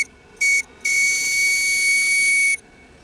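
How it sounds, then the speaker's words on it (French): Burner of a radio-controlled model steam boat, the Léchalas, giving a loud steady high-pitched hiss, first as a short burst, then held continuously for nearly two seconds before cutting off, with faint background noise. "on entend bien le brûleur de l'Échalas"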